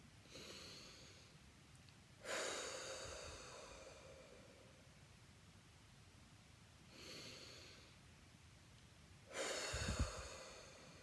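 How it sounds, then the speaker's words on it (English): Deep breathing as a relaxation exercise: long slow inhales through the nose alternating with fuller exhales through the mouth, four breathy rushes at a steady pace, close and fairly soft, with no talking. "So you take a big inhale from the nose and a big exhale from the mouth"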